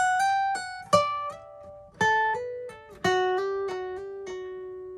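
D: A fingerstyle guitar solo section, with clearly plucked single notes and chords that ring out and decay, struck roughly once a second, played close and alone.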